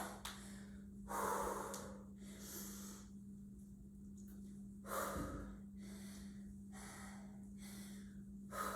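Heavy breathing during a postpartum total-body strength workout: a close series of deep inhales and exhales at a steady rhythm, with a constant low hum underneath.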